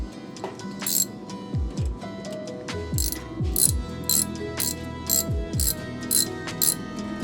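Screwdriver tightening an intercooler fitting on a Subaru WRX drag build, close ratcheting clicks in quick bursts with short pauses between turns, plus light metallic clinks.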